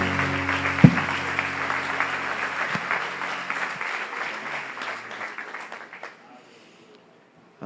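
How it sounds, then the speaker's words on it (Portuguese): A church congregation claps loudly at a worship service, with dense applause filling the first six seconds and then tapering into a faint tail. "Aplauda bem forte aos céus."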